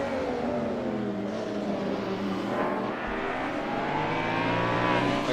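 A BMW race car in a sim racing series accelerates hard out of a corner, its engine roaring steadily and loudly with rising revs throughout, no talk over it.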